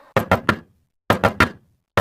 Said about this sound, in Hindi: उसे गेट बजाने की आवाज आती है।